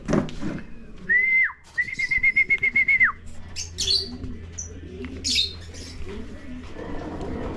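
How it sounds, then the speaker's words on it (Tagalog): A small bird whistles and chirps beside a racing pigeon loft, with two long sustained whistled notes followed by shorter bright chirps and trills, fairly close and clear over a low outdoor background. "No, it's only a bird."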